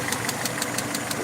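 A Peugeot 307 with the EW10J4 petrol engine idling roughly, with an even, rapid ticking valve clatter repeating over a low steady hum, close and alone.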